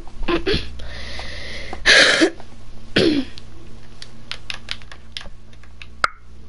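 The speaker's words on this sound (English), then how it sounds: "I just have a cough" A person who is recovering from sickness coughs several times in harsh, throaty bursts. The coughs come close to the microphone and mix with computer keyboard typing and clicks.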